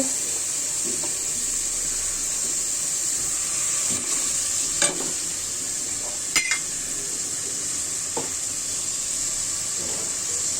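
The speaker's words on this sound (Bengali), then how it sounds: "চিংড়ি মাছ দিয়ে দিচ্ছি ব্লেন্ডার করা" Blended shrimp paste frying in a pan for a bottle gourd curry gives a steady close sizzle, broken by a few sharp scrapes and clinks of stirring.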